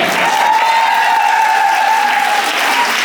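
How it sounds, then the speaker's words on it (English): An audience claps loudly and steadily at a live event, a dense, sustained burst of applause with a few cheers mixed in, close and continuous from start to finish. "Je veux qu'on les applaudisse bien fort,"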